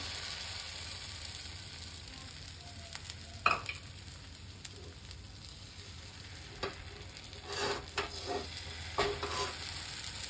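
Batter frying in ghee in a pan on a home stove, a soft continuous sizzle with occasional scraping stirs and light clinks of a utensil, fairly quiet, no talking.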